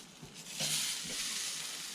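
Salmon fillet sizzling on a charcoal barbecue grill, laid right over the hot coals; a steady, fairly faint hiss and crackle that swells slightly after being set down, with no talking.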